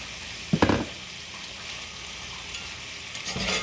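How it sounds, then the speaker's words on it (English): Cabbage tumbles into onions already sizzling in a Lodge cast iron skillet, a sharp burst of crackle and clatter up front, then an even hiss with a second scrape of stirring near the end. "I'm going to go ahead at this point and add my cabbage"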